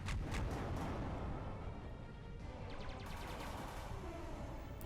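A flak barrage in the space strategy game Halcyon 6: Starbase Commander roars as a dense, continuous wall of rumbling artillery bursts, steady and loud throughout with no pauses.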